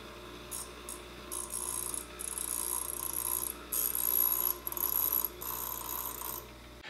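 Electric drill pre-drilling and countersinking a pilot hole for a number 8 wood screw through a wooden miter bar on a small parts sled. Several close, steady whining bursts with short pauses between them.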